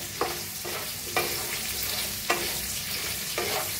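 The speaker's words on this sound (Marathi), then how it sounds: "भेंडी चांगली अशी भाजून घेऊया।" Okra and potatoes fry in oil in a pan with a steady sizzle, broken by four spatula stirs that land roughly a second apart and sound close.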